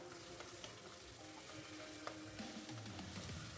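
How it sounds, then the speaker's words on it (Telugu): Onions fry in oil with ginger-garlic paste and turmeric for a korameenu fish pulusu, giving a steady close sizzle with occasional stirring scrapes throughout, and no voices. "కొద్దిగా ఉల్లిపాయలు వేగాక అల్లం వెల్లుల్లి పేస్ట్ వేసుకుంటున్నాను."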